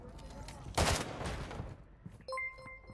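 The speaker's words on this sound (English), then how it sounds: "That guy's shooting me through a wall." Gunfire in Call of Duty DMZ comes through a wall as a loud, dense burst of rapid shots lasting under a second, followed by lingering rumble and scattered game effects, with no talking.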